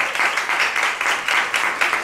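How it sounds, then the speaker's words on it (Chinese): A church congregation at a Saturday worship service applauds, a dense, close, continuous wash of many hands clapping with a slightly pulsing rhythm, heard alone. "让我们掌声献给耶稣啊！"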